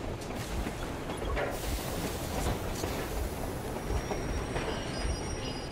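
A train rolls along the rails in the video game Metro Exodus, a steady rumbling clatter with wheel squeal and faint clicking, moderately loud and continuous throughout, with no voices.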